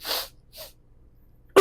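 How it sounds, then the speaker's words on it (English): Two breathy intakes followed by an abrupt, loud sneeze that cuts off at the end; close and alone. "I don't know why that made me sneeze."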